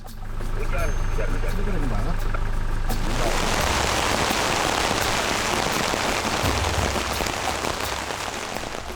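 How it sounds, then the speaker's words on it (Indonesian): Rain falls on a muddy off-road track in Sulawesi, a steady, loud hiss that floods in after about three seconds over a low rumbling engine. "hari ini juga kebetulan hujan, jadi makin berlumpur deh"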